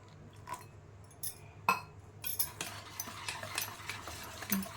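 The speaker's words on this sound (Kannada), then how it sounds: "ಈ ಥರ ಗಂಟೆ ಚೆನ್ನಾಗಿ ಮಿಕ್ಸ್ ಮಾಡ್ಕೋಬೇಕು" Tomato bhaji batter is mixed steadily in a bowl, giving a rhythmic wet slapping and scraping with a few light clinks, close by and fairly quiet.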